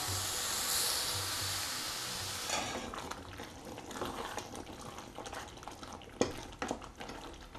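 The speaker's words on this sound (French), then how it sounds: "maintenant on va mélanger" Spoon stirring a gourd and mushroom sauce in a pot, with a steady hiss of simmering at first, then soft scraping and clinks, and a couple of sharper knocks near the end.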